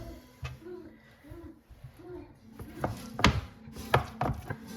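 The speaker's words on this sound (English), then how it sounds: "now I'm kind of cutting them into thick French fry type pieces" A knife cuts cheddar cheese curds into thick pieces, making a handful of soft, irregular thuds and knocks on a board at close range, with no talking.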